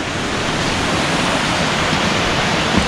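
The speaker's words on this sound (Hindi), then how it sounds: "तो ये झरना है वो," Constant roaring rush of a waterfall on the Kheerganga trek from Barshaini, a dense unbroken wash of falling water close by.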